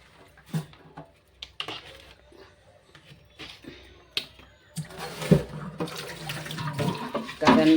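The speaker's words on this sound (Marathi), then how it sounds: "चला आता पाणी भरते मी" A household tap fills a container with water: scattered knocks and clatter come first, then a steady, close stream of running water grows louder through the second half.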